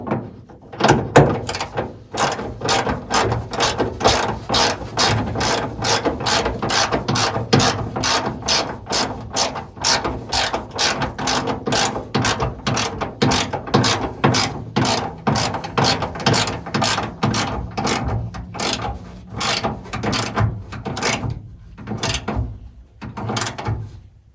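Rapid ratchet clicking tightens bolts on a 1978 Chevy C10, dozens of sharp pawl clicks in steady bursts, close and loud, pausing briefly near the end before a final few strokes.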